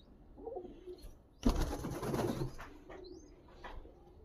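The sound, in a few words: pigeons cooing, Lali Fansa breed pigeons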